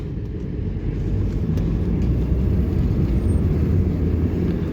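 Steady loud road rumble from inside a moving car, a continuous low drone of engine and tyres holding constant with no breaks and no speech.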